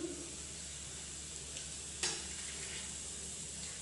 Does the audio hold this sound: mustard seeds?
yes